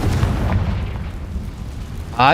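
A Confringo fire spell from Hogwarts Legacy bursts with a deep, rumbling explosion that rolls under game noise, then ends in a short, bright crackling flare.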